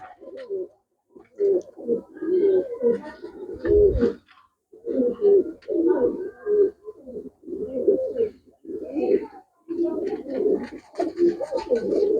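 Pigeons kept for flying coo in repeated soft, throaty bursts, several birds close by, with short pauses between phrases and faint chirps in the background.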